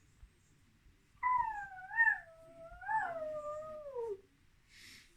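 A person imitates a wolf howling, one long rising-and-falling voiced howl of about three seconds with a few wavering bends, fairly close and alone over quiet background.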